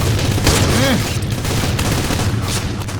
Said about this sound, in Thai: อุ้ยอุ้ยอุ้ยอุ้ยลูกซองรัว